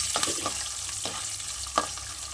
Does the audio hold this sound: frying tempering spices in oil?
yes